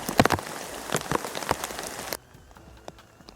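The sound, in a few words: heavy rain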